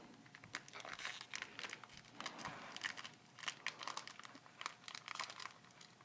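Soft crackly crinkling and rustling of a Magic: The Gathering Coldsnap booster pack's foil wrapper being worked open by hand, close-up and faint, in uneven bursts with no talking.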